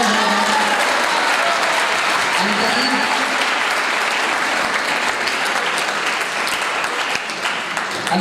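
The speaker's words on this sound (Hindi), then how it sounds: "एक दफ़ा उनके लिए तालियां हो जाए।" Audience at a college welcome party breaks into dense, sustained applause, loud and continuous for several seconds, with some voices mixed in before the clapping thins slightly at the end.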